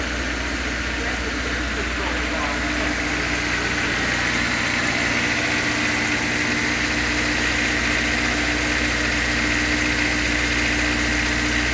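A 2004 Honda S2000 idles after its first start in a year, a steady, loud mechanical drone with a faint rattle, while a person talks over part of it.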